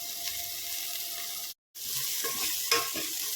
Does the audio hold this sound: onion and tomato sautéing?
yes